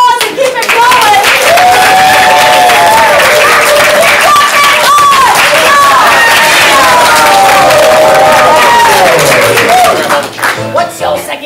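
An audience at a ComedySportz improv comedy show applauds and cheers, with a continuous wash of clapping mixed with whoops and shouting voices that stays loud before fading near the end.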